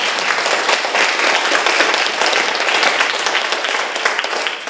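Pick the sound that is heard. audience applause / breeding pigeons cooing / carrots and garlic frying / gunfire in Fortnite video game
audience applause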